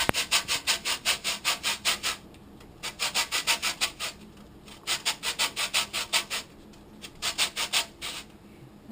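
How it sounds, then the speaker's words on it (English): Lemon rind is scraped across a grater in quick rhythmic strokes, three bursts of brisk rasping separated by short pauses, close and fairly quiet. "I'm going to go ahead and grate just a little bit of lemon rind."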